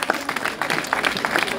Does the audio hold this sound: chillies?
no